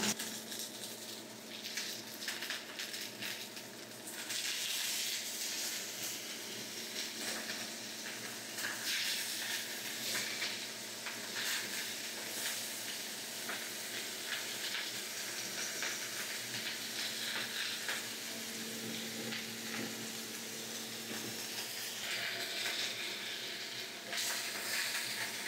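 Hamburger patties frying in a pan on a stovetop give a steady, dense sizzle and hiss that runs continuously, with the crackle swelling a little after the first few seconds and staying close and even.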